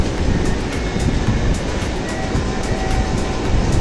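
Dhaka Metro Rail electric train running, a steady loud rushing rumble with faint rhythmic clicks, heard continuously and close with no voices.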